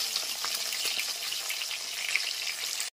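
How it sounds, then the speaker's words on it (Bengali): Dense, crackling sizzle of pabda fish frying in hot oil in a wok, steady and fairly close, with small pops throughout before cutting off abruptly. "দুটো দুটো করে আমি সমস্ত মাছ ভেজে নিয়েছি"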